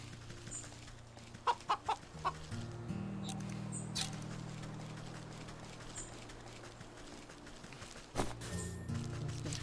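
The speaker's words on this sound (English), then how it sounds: "A pheasant, not chicken. Sounds like a chicken." A pheasant in the video game Wytchwood clucks like a chicken, giving a few quick close clucks over a low steady hum and one more burst near the end.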